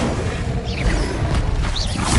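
A fire spell cast in the Hogwarts Legacy wizarding game, heard as a short, loud whoosh with mechanical crackles and a swelling rush of flame, with no voice over it.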